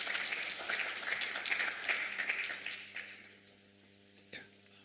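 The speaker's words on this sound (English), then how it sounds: "round of applause, please." Audience applause at a sustainable industries conference, a burst of many hands clapping that holds strong for a few seconds, then thins and fades to a few scattered claps near the end.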